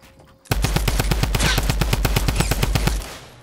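A minigun fires in Fortnite, a loud rapid continuous burst of evenly spaced shots lasting about two and a half seconds, with a low thumping layer underneath.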